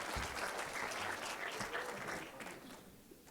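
Sustained clapping from a pageant audience at the Miss Dale Fall Festival Queen Pageant, a dense steady round of applause that stays fairly even before tapering slightly toward the end.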